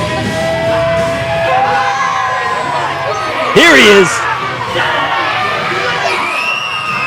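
A crowd at the Warriors of Wrestling "Kings of Queens" event reacts to a wrestler's entrance with yells, whoops and one sharp, loud shout midway, close and lively, while commentators talk throughout.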